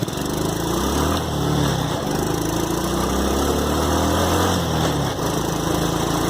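A Chinese quad ATV engine runs with the choke set about halfway, a loud, steady, buzzy drone close by with a slightly uneven low throb throughout.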